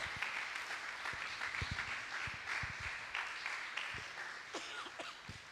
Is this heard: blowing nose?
no